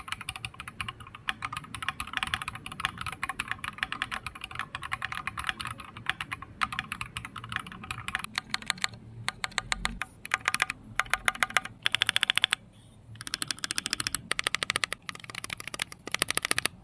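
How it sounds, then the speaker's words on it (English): Typing on an Epomaker Tide75 mechanical keyboard fitted with lemon switches and ceramic keycaps: a steady, fast clatter of crisp keystrokes close up, continuous with a few brief pauses and bursts, no voices. "I forgot to give you a sound test for the lemon switches"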